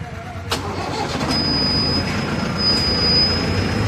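A Mahindra 655 DI diesel tractor engine starts with a sharp crank, then settles into a steady, close rumble with a thin whine riding on top.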